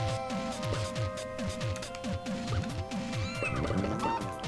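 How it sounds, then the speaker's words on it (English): A tiger enemy in the indie video game The Chickening lets out repeated cat-like meows that rise and fall, mixed with game music, clattering hits and other game effects. "tiger sounding like a kitty cat of doom"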